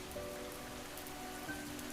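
Steady rain pours outside an old inn at night, a dense, even hiss that stays close and continuous with no voices over it.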